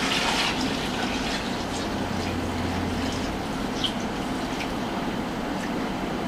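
Water pours steadily from a tap into a 5-gallon plastic fermenting bucket, making a continuous rushing and splashing sound at close range that stays even throughout.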